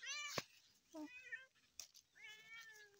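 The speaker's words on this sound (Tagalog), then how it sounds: "Ingay nitong pusa na to." A noisy cat in a vegetable field meows three times, each call a drawn-out, rising-and-falling whine, quiet and separated by short pauses.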